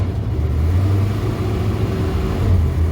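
A 1978 Dodge D-200 truck engine runs steadily at close range, a dense low rumble with slight rises and dips in revs as the transmission shifts.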